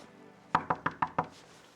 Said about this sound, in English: first time we ever did a door knock in a hotel hallway